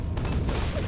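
Grenade explosions in a video game, a dense, loud burst of booming blasts and crackling gunfire packed into under a second, close and heavy at the low end.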